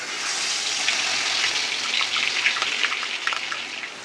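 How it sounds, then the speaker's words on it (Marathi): A paste of onion and coconut hits hot oil in a pan for a spicy chickpea misal, giving a steady, loud broadband sizzle and crackle that persists throughout with small popping bursts, no talking. "इथे आता तेल गरम झालं आहे आणि जे आपण वाटण करून घेतलेलं कांदा खोबऱ्याचं ते वाटण घालून घेते मी"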